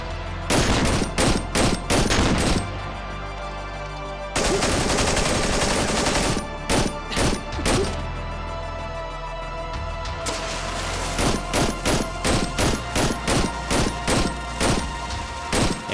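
Loud gunfire cracks out in rapid bursts during the Cry of Fear final boss fight, clusters of close shots alternating with sustained automatic fire and brief pauses, no talking.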